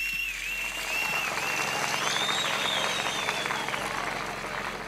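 A crowd at a festival of traditional local games in Roudbarak applauds in a sustained, dense wash of clapping that lasts throughout, with a whistling tone rising and falling above it.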